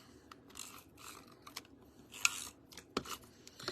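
Tape being pulled and pressed to join two pieces of card, a close, quiet series of crisp crackles and short rips with a sharper tearing snap near the end.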